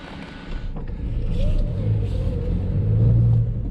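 A car rumbles steadily as it drives slowly onto a site near the flooded Mir mine in Mirny, a low continuous engine drone that swells slightly, heard alone at moderate loudness.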